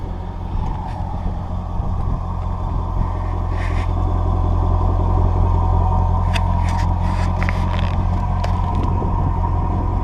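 A 2017 Jaguar F-Type coupe sits idling, its engine giving a loud, steady low rumble close by, unchanging throughout with no revving and no voices.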